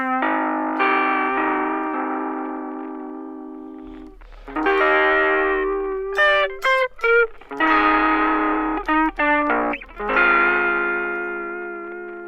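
Chroma Console effects pedal set to a vinyl lo-fi character through a lo-fi speaker simulation, giving a sustained, filtered tonal instrument sound with several bursts of choppy, stuttering notes and no talking.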